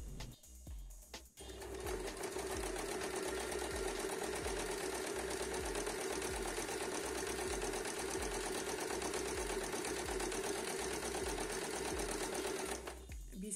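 A sewing machine stitches a buttonhole in semi-automatic mode, running in a fast steady rhythm of needle strokes close by for about ten seconds. It starts and stops with short pauses at each end, and no one speaks.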